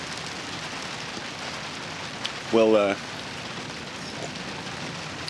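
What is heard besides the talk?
rain falling outdoors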